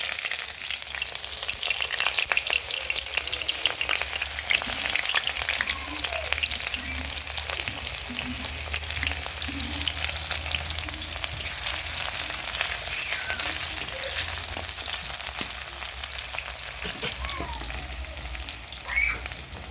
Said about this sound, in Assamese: পিঁয়াজখিনি অলপ ৰঙাকৈ ভাজিম